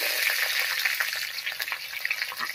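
Green chillies and a few garlic cloves fry in oil with dried red chillies, making a dense, continuous close-up sizzle with fine crackling throughout.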